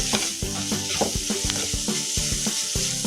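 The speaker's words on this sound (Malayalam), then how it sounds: "നന്നായിട്ട് വഴറ്റി കൊടുക്കാം." Whole cardamom pods, cloves, cashews and a bay leaf sautéing in hot oil, with a steady sizzle and repeated scraping stir strokes of a spoon against the pan, close and fairly loud, no talking.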